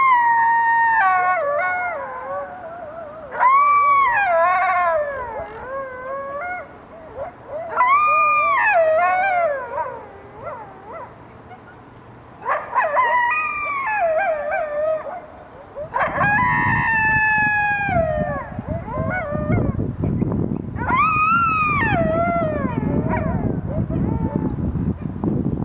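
Urban coyotes, a female and a male, howl and yip in rising, wavering cries, several long overlapping howl bouts spread across the clip, with a steady low rumble of city background noise growing louder in the second half.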